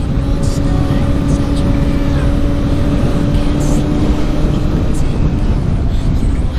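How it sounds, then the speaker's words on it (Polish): A motorcycle rides along with a steady, loud engine drone and rushing wind that hold without a break. "Aktualnie wsiadłem z powrotem na motocykl"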